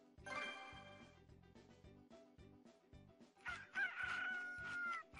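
A cartoon rooster crows twice, a drawn-out, strained cock-a-doodle-doo over a bouncy musical backing, the second call louder and longer than the first.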